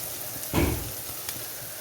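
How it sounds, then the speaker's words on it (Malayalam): Cumin seeds hit hot oil for a bone curry, giving a short, soft burst of sizzling over a low, steady background hiss. "ജീരകം ഒന്ന് ചൂടായി കുത്തി അത് മതി"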